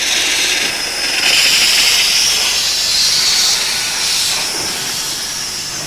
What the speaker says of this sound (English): The fire heats the water and makes steam.